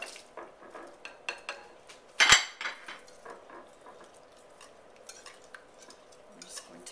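Browned sausage is stirred into a whisked egg mixture for a breakfast casserole, making soft wet mixing sounds and light scrapes against the bowl, with one loud sharp clank partway through.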